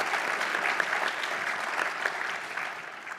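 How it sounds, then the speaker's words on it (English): A conference audience breaks into steady, dense applause, a continuous wash of many hands clapping at moderate volume with no talking over it. "give a round of applause"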